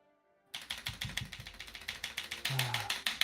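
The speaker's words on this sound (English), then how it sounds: "Could you hear my keyboard?" Rapid clicking of a computer keyboard being typed on, steady irregular keystrokes close and fairly quiet, starting after a brief silence and continuing alone with no talk.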